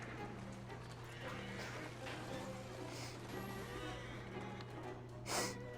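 Horse in the video game Assassin's Creed Syndicate whinnies amid galloping clip-clop hooves and game action, with a steady low hum underneath and a brief louder burst near the end.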